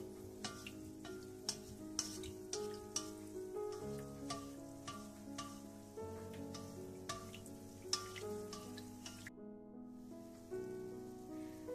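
Gulab jamun fry in oil as the oil is gently stirred, a faint crackling sizzle with small ticking pops, heard quietly beneath steady background music with changing chords.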